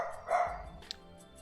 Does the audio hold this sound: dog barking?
yes